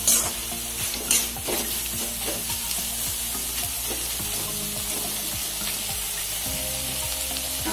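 Jute leaf greens (morapat shak) sizzle steadily in a hot pan while being stirred, with repeated scraping strokes over a continuous close, even frying hiss, and no talking.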